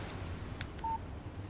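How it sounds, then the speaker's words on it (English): A short electronic beep from a mobile phone's text message alert in the video game Alan Wake, a single steady tone over a low ambient hum. "Text message from Barry."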